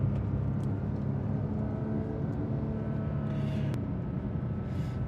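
A Porsche 911 GT3 Touring with a manual gearbox drives along hilly New Zealand roads, its engine holding a steady, fairly loud droning roar mixed with road and wind noise inside the cabin, with no talking.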